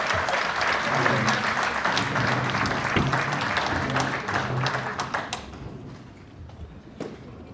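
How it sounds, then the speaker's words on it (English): Audience applause at a horse breeders' conference fills the hall, a dense, sustained clapping that thins out after about five seconds into scattered claps, with faint voices underneath. "let's get a round of applause for this crew."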